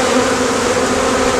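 Honey bees shaken off brood frames during a spring hive split give a dense, loud, continuous buzzing of many insects close by, with no voices.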